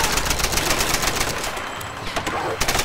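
Dense, sustained gunfire in the Tomb Raider video game, a continuous crackle of rapid shots filling the whole stretch at steady loudness, with a few sharper bursts near the end and faint voices mixed underneath.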